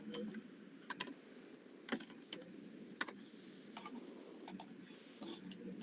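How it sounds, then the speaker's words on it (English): Quiet, irregular clicking of a computer keyboard as login credentials are typed, light keystrokes in short bursts over a low steady background hum, with no talking. "So I'm going to type in their credentials now."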